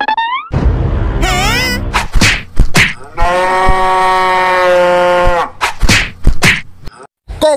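A black cow lets out a loud, close, drawn-out moo lasting a couple of seconds, with a shorter bellow before it and sharp knocks and thwacks around it.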